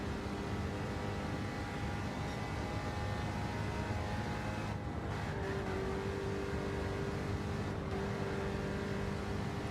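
A Corvette's engine in the racing game Gran Turismo 7 holds a steady, dense drone for about ten seconds, constant in level with no clear revving or passes, and no voices over it.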